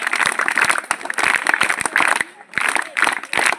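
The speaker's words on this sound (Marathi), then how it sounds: "तुमच्या राठोड सरांसाठी एकदा छान टाळ्या वाजवा" Students at a school Teachers' Day program clap for their headmaster, Rathod sir, in rapid scattered bursts with brief pauses, voices mixed in with the applause.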